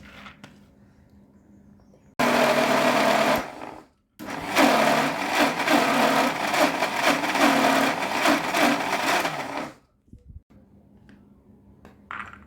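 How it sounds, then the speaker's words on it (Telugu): A mixer grinder whirs loudly as it grinds soaked lentils into vada batter, running in two close bursts with a brief pause between, then cutting off to quiet room noise. "ఇలా మెత్తగా అయ్యే వరకు రుబ్బుకోవాలండి."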